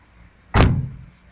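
A heavy door on a 1968 Buick Electra swings shut with a single solid slam, loud and close, leaving a low rumbling decay with no voices.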